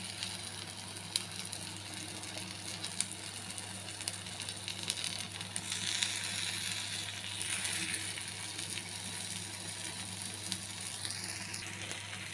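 Sweet banana batter frying in a pan, giving a soft, steady sizzle with faint crackles throughout and no voices.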